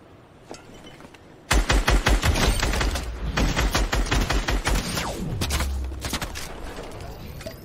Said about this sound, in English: Open fire, they're right there.